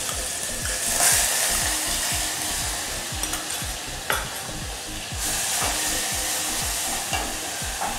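Onions fry in oil and water for Yemeni zigni, giving a close, continuous sizzle with a steady, rapid rhythm of scraping stirs throughout. No one speaks.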